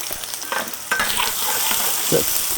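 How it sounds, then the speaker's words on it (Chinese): Ginger and garlic stir-fry in a little oil in a wok: a close, crackling sizzle broken by a few sharp scraping stirs of the spatula. "接下来我们再炒个料哈，放入一点点底油，再放入点生姜、蒜米"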